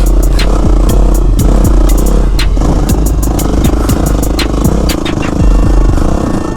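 A Yamaha WR250R dual sport motorcycle ridden over dirt whoops, its engine droning loudly and rising and falling with the throttle, rattled by frequent clattering knocks from the bumps, close and continuous.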